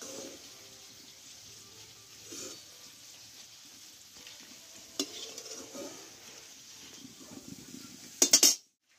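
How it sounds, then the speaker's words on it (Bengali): Peanuts frying in hot oil for a Bengali potato-chips recipe, with a steady soft sizzle, then utensil scraping and stirring in the pan, and a few sharp metallic clinks near the end as the peanuts are lifted out. "দেখো বাদামটা ভাজা হয়ে গেছে, তুলে নেবো আমি।"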